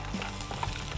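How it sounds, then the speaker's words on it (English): Spiced cashews and almonds being stirred with a spoon in a hot pan, a close continuous sizzle with soft scraping throughout. "Just get those started by stirring them with your spoon"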